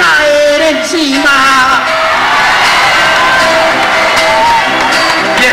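A large crowd at a live Monterrey event shouts, whoops and cheers from below, loud and continuous, with yells rising above the roar and a sung or chanted voice in front.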